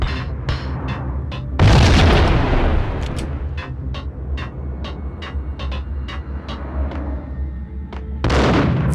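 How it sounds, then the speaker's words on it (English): Grenade explosions in Max Payne on PS2: a heavy close boom with a rumbling tail, then a series of sharp gunshot-like cracks, and a second loud blast near the end. "Just throw a grenade."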